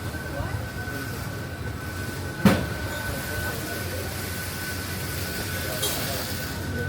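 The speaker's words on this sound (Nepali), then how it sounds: "अहिले ट्रेनमा छौँ" Ride aboard the Busan sky train, a steady low rumble of the moving car with one sharp clank partway through, and people talking over it.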